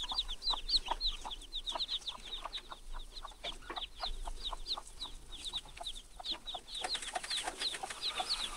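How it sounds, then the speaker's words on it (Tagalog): Close by, a hen keeps up soft, repeated clucks while her thirteen chicks peep in a busy, high-pitched chorus with no pause. "Ang dami ng sisiw ng manok na yun."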